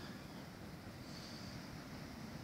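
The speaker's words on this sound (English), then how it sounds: "As predicted, the ocean is rough, tide is high" Rough ocean surf at high tide on a beach, a steady broad wash of breaking waves with wind noise on the microphone, loud and continuous with no talk.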